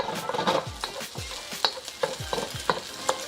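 Eggs frying in a pan with rice while being stirred, a steady sizzle broken by repeated scraping strokes of a utensil at a brisk, even pace, close up and without talk.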